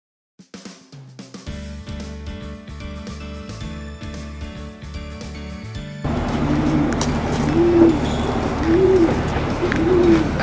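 Racing pigeons kept by a long-time fancier in Morioka coo in repeated soft rolling phrases over steady background noise, after a stretch of rhythmic clattering and tones at the start.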